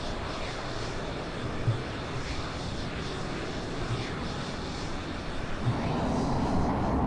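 A Eurofighter Typhoon jet engine in Flight Simulator 2020 throttles up with a broad, steady roar that swells slightly toward the end, continuous and fairly loud.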